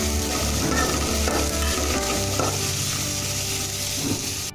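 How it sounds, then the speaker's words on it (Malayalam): Green chillies, curry leaves and ginger-garlic paste sizzle loudly in a pan for squid thoran, with constant close frying hiss and steady stirring scrapes. "പച്ചമുളകും കറിവേപ്പിലയും, പിന്നെ ഇഞ്ചി വെളുത്തുള്ളിയുടെ പേസ്റ്റ് ഇത്രയിട്ട് നന്നായിട്ടൊന്ന് മിക്സ് ചെയ്യാം"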